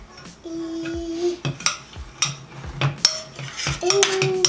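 A spoon mixes sugarless sugar cookie dough, made with water in place of egg, in a bowl: close, uneven clinks and scrapes of metal against the bowl, with brief light vocal sounds in between.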